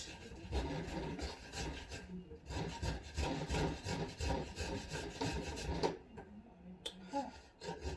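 Fresh coconut is grated by hand with a steady, rhythmic rasping scrape, each stroke blending into the next, close up and fairly quiet, with a brief pause midway and no talking.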